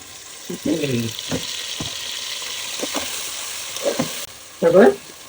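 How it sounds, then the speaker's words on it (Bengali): Ginger, garlic, onion and cumin spice paste frying in oil for a duck curry, giving a steady close sizzle broken by a few louder bursts of scraping and stirring. "তেলের উপর দিয়ে আবার মশলাগুলো দিয়ে কষিয়ে দেবো"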